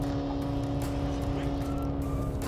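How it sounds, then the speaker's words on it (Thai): Honda CR-V e:HEV hybrid engine running as a generator on a steep climb, a steady low drone with a constant tonal hum heard inside the cabin, continuous and moderately loud throughout. "ตรงที่ขึ้นทางชันโหดๆแบบนี้เราก็จะได้ยินเสียง เครื่องยนต์ ปั่นไฟ ค่อนข้างชัดเข้ามาในห้องโดยสารนะครับ"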